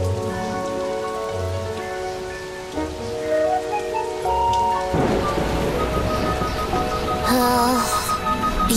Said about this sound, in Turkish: Bugün çok yağmurlu bir gün.